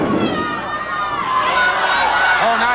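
A wrestling crowd at a 1987 pro wrestling match roars and yells continuously, a loud, excited swell, with an announcer talking over it.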